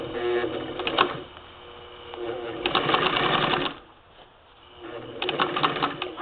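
A 1947 Singer 66-16 sewing machine runs a hemmer foot along pressed muslin, sewing in three bursts of rapid, even needle clatter separated by short pauses.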